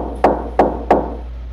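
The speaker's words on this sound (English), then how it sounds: "That was the loudest knock in entire existence I have ever heard." Three loud, sharp knocks on a door at a steady, even pace, close by in a quiet room.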